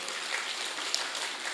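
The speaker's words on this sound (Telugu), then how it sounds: "ఒకసారి గట్టి క్లాప్స్" An audience at a large meditation gathering claps in a soft, continuous patter of applause that sounds somewhat distant and stays even in level, with no speech.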